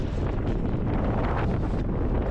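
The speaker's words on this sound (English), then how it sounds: "It is windy as fuck." Strong, continuous wind roars and buffets the microphone at the summit crater of Mount Fuji, a loud low rumble with no pauses and no voices.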